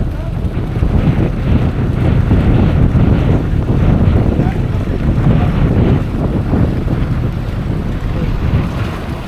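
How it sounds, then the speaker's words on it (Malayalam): Boat passing at sea off Lakshadweep, a steady low rumble blended with waves and heavy wind buffeting the microphone, loud and continuous throughout. "ആ അവിടെ ഒരു ബോട്ട് പോകുന്നുണ്ട്"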